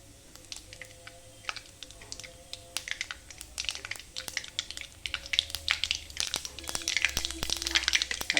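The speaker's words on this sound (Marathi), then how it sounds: "असं मोहरीचा कडकड आवाज आला पाहिजे, तेव्हा आपली मोहरी कडकडली." Mustard seeds crackling in hot oil in a pan, sharp scattered pops and ticks that grow denser and louder toward the end, close by over a faint sizzle.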